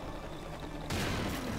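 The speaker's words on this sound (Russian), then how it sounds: "мы взрываем эту стену и отходим подальше" In Serious Sam 2, a wall is blown up with an explosive, heard as one sudden loud broadband blast that cuts in about halfway through and then rumbles on with debris and gunfire-like crackle.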